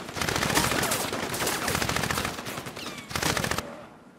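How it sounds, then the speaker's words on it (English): Dense automatic gunfire from a firefight in the video game Crysis, continuous rattling bursts for most of the stretch, a brief lull, then another loud burst before cutting to quiet. "Even in this firefight"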